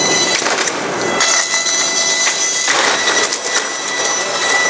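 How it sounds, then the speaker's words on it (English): A Model 2054 manual traverse saw cuts through a workpiece with a loud, continuous, rough grinding roar that carries shrill squealing overtones, steady for the whole stretch. "So I'll start the saw and feed the workpiece in."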